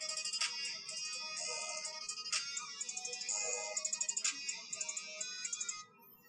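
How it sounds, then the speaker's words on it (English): A soft, bright chiming melody plays from a small iPhone speaker as the phone is plugged in, quiet and tinkly with repeating bell-like notes, then stops. "You can have your iPhone play music when you plug it in"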